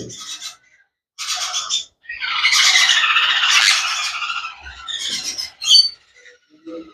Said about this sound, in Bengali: এটা হচ্ছে সানকনুর পাখি।